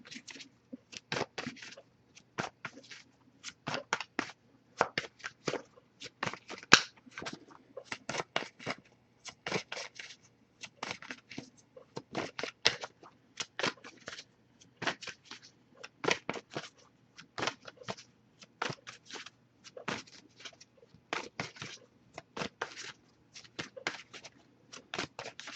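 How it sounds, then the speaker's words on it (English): Steady, continuous shuffling of tarot cards, crisp rapid slaps and rustles repeating in an irregular rhythm, close up and clean with no talking. "I'll shuffle for a bit, see if we get something from you to them first."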